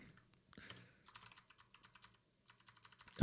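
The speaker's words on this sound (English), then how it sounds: "I'm not good at typing this, man." Someone types on a computer keyboard with quick, close clicks in irregular bursts and short pauses.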